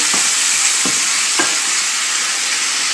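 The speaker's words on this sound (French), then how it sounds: "On peut s'apercevoir que les ananas commencent à bien, bien, bien dorer" Chicken and pineapple chunks fry loudly in a pan, a dense continuous sizzle close up, broken by three soft scraping stirs in the first half.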